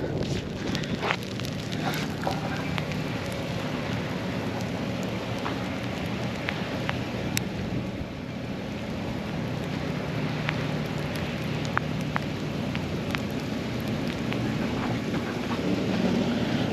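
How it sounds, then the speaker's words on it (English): Ice pellets pelting down during a heavy snowstorm around a truck and snowplow: a dense, steady hissing patter with scattered sharp ticks of hard impacts, continuous throughout with no talking. "That's not rain whatsoever. That's ice, and it hurts."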